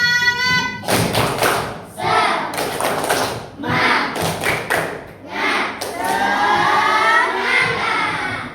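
A school class performs a rhythmic spirit clap, tepuk semangat, with bursts of unison clapping and thumping in patterned groups, children's voices mixed in, loud and close.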